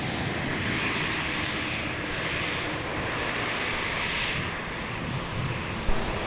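A Velocity airliner departs on runway 27 at Melbourne Airport at night, its engines spooling up into a steady, broad roar that swells and eases slightly, mixed with wind buffeting; no one speaks.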